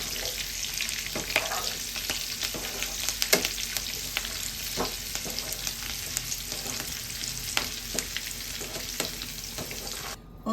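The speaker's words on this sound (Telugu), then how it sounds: "కొంచెం ఆయిల్ నీట్గా ఉన్నప్పుడు పచ్చిమిర్చి, కరివేపాకు చిట్పట్లాడినంత వరకు ఇలా వేయించుకొని" Green chillies and curry leaves fry in hot oil for prawn pakoda, giving a steady close sizzle with scattered crackles and pops throughout, and no talking.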